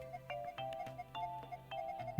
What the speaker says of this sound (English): I got a notification on my phone.